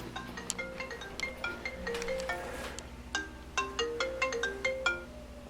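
A phone plays a melodic ringtone for an incoming call, a run of bright chiming notes repeating in quick rhythmic bursts, close and clear with no talking.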